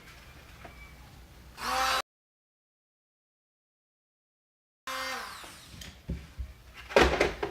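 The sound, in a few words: power sanding a plastic speaker pod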